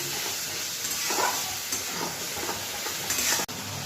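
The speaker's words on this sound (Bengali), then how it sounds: "মশলাটা আমি ভালো করে কষিয়ে নেব যতক্ষণ না তেল থাকছে" Masala spice paste frying in oil for an aubergine, potato and bitter gourd dish, with a steady close sizzle and hiss broken by scraping strokes of a stirring spoon against the pan, then a sharp knock near the end.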